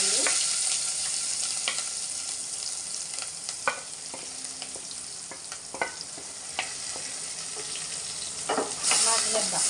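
Small onions, ginger and garlic sizzle and fry in a pan for egg curry, a steady broadband hiss broken by occasional stirring scrapes and clinks, close and continuous with no talking.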